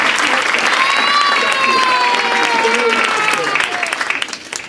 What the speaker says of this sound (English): how about a little round of applause